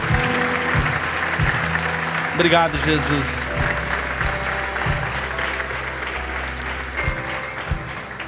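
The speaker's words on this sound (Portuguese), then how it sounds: "dê uma salva de palmas bem forte." Church congregation gives a strong round of applause at the close of a sermon, dense clapping under a voice speaking briefly over it, with music or organ tones sustained in the background.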